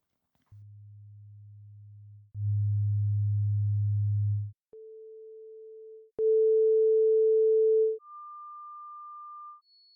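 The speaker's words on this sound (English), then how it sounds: "The tones we just heard are called sine waves." Synthesized pure sine wave tones play in sequence, each a steady held pitch stepping upward from low to high, with some tones louder than others and no talk.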